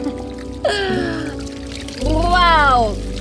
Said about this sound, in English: This is our bucket shower.